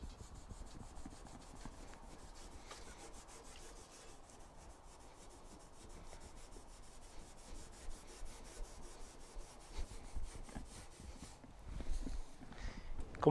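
A cloth scrubs a car's chrome trim in steady, close rubbing strokes that grow louder and more uneven near the end, with no voices.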